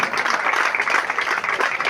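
A dense crowd claps at a cricket prize-giving ceremony, steady broadband applause that is loud and continuous throughout, with no pauses or distinct individual claps.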